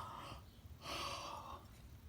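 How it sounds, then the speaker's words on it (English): A reader pauses while reading a children's mystery aloud to give a breathy, drawn-out yawn, with airy inhalation and exhalation, close and moderately quiet, no words spoken. "I always have to yawn when I'm reading too"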